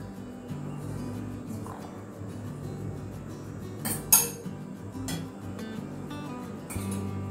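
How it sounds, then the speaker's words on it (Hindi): Utensils clink and scrape against a plate or tray while warm kalakand mixture is scooped into a greased dish for instant kalakand, with a few sharper metallic knocks among low, steady kitchen handling and no talking. "अब हम एक प्लेट या ट्रे में तेल लगा के इस मिक्सचर को"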